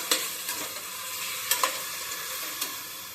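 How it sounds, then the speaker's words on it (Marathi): Tomato and masala paste frying together in a pan for a village-style mutton curry, a close sizzle broken by several sharp spoon scrapes and stirring clicks. "तर पेस्ट आणि टमॅटो एकदाच टाकून घेतला आहे मस्तपैकी हलवायचं"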